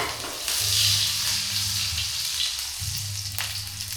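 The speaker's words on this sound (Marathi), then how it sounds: "सो आज मी मच्छी फ्राय करून घेते" Fish frying on a hot tava gives off a loud, continuous close sizzle with a low hum underneath and no talking.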